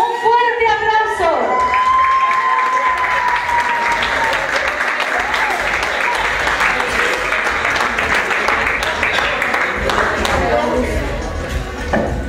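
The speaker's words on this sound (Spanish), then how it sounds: "y vamos a recibirla con un fuerte aplauso" Guests at a quinceañera celebration break into loud, sustained applause and cheering to welcome the birthday girl, with shouts from the crowd and a voice over a microphone at the start.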